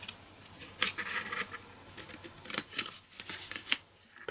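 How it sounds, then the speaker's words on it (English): Scissors snip a wedge out of cardstock on a self-healing mat, a quiet run of short crisp cuts in an irregular rhythm, heard close with no talk. "I'm just going to cut a wedge here"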